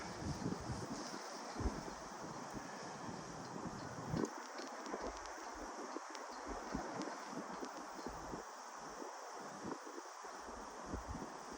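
Gusty wind outdoors, a constant broadband rush with rustling and buffeting against the microphone that lasts the whole stretch, with no speech.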